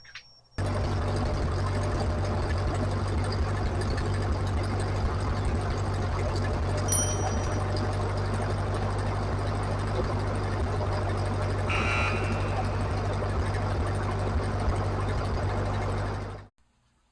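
A 1944 Ford 2N tractor engine idling steadily without choke, a continuous low rumbling drone held at constant loudness for the whole stretch before cutting off abruptly.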